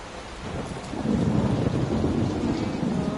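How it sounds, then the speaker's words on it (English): Steady rain pours down while a low thunder rumble swells and rolls on, loud and close, with no voices, in the horror game Layers of Fear. "Will this storm ever run out of rain?"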